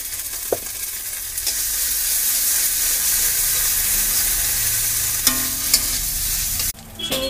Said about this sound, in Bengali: পেঁয়াজটা লাল লাল করে ভাজা হয়ে গেছে, এবার আদা রসুনের পেস্ট দিয়ে দেওয়া হচ্ছে,